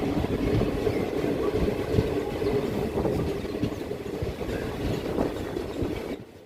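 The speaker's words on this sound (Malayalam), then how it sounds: "ട്രെയിൻ ആ സ്റ്റേഷനിൽ നിന്ന് പയ്യെ എടുത്തു" A passenger train bound for Velankanni pulls slowly away from a small station. Its close, rumbling clatter of wheels and carriages goes on steadily, then fades sharply at the end.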